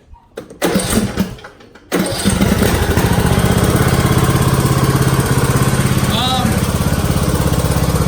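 A Craftsman riding lawn mower engine starts with a few sputters and then settles into a loud, steady, close running drone.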